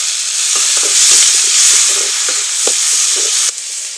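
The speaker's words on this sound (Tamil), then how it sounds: "தக்காளி நல்லா வதங்கிடுச்சுங்க." Tomatoes with onions, green chillies and curry leaves sauté in a pan, a loud close sizzle with light spoon scrapes and stirring knocks, no talking.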